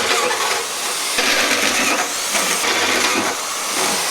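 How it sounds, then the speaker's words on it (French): A heavy drill boring through a steel I-beam, loud and close, with a harsh grinding whine broken into a few long pushes and brief pauses between them. "on passe à l'artillerie lourde pour percer l'IPN"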